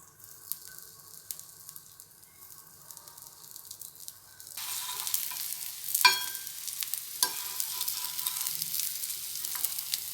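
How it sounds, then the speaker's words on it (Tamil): Chickpea cutlets go into hot oil on a dosa griddle, a faint hiss jumping to a loud, bright sizzle that stays steady, with a few sharp scrapes and spatters near the pan. "தோசைக்கல் காஞ்சிருச்சு. எண்ணெய் அடியில் ஊற்றிட்டேன்."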